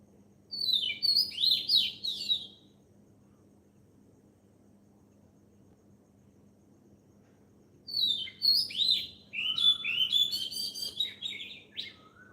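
At dawn, a single bird sings clear, high warbling phrases in two bursts separated by a quiet pause, with a faint steady insect hum underneath.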